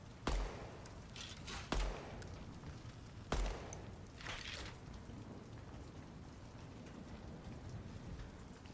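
Gunfire from hip-firing a gun in the shooter game DEADROP: a few sharp, loud shots spaced about a second apart, then a softer rain-like noise, with no talking.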